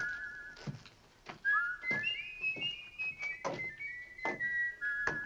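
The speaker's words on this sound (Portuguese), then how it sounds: "Colorado e Dude andam e assobiam em sincronia no encerramento do filme." Two men whistle a simple tune in sync, in wavering notes, punctuated by soft thumping footsteps or knocks at uneven intervals.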